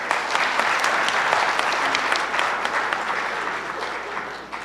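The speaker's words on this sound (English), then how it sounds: "So please applaud yourselves" Sustained, dense applause from a large conference audience at a housing plenary session, loud and steady throughout before tapering slightly at the end, with no talking over it.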